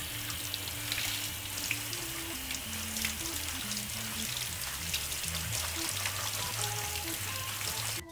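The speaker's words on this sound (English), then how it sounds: "When the noodles have softened up, drain them and rinse with cold water." Softened glass noodles being drained and rinsed under a cold-water kitchen tap, a steady splashing stream hissing into a sink with faint clinks, moderately close.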